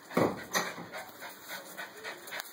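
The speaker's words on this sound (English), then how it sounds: "Little puppy." Puppy panting close by, quick soft rhythmic breaths repeating steadily, with a faint whimper over a steady background hum.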